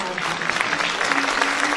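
An audience claps warmly for a singer at a Turkish music concert, a steady, fairly loud burst of applause with a low sustained tone underneath.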